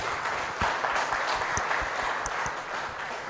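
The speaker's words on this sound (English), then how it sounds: "Please, a round of applause for the organizers." An audience at a legal summit claps steadily for the organizers, a dense, continuous applause lasting throughout at moderate loudness.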